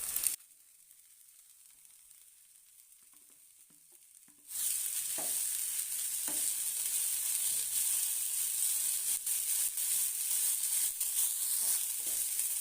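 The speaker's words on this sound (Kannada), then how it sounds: "ಅದಕ್ಕೆ ಸ್ವಲ್ಪ ಎಣ್ಣೆ ಹಾಕ್ತಾ ಇದ್ದೀನಿ. ನಾನು ಸ್ವಲ್ಪ ಮಡಕೆ ಹುರ್ಕೋತೀನಿ." Moth beans roast in oil in a pan on a gas stove, a quiet background giving way midway to a loud, steady close sizzle with faint stirring scrapes and pops.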